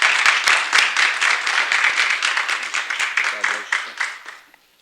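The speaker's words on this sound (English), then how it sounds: "Give him a round of applause." Audience applause for an honoree being called to the podium at an Essex County African-American Heritage Month ceremony, dense steady clapping from a crowd throughout, tapering off at the end.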